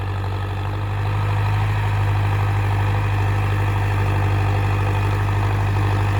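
A 605 tractor engine with an 8-foot rotavator runs steadily at idle, a loud low rumble with a deep droning hum that holds constant throughout.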